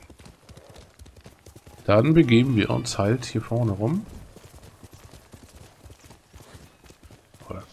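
A horse trots in the video game Ghost of Tsushima, its hooves making a quick, even clip-clop rhythm throughout, while someone talks over the middle section.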